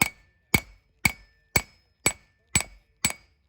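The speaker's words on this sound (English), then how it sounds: "Now I'm just gonna start kind of hitting the bevels" A hammer strikes hot steel while forging the bevels of a trail knife: eight sharp ringing blows at an even pace of about two per second, close and clear with brief decays.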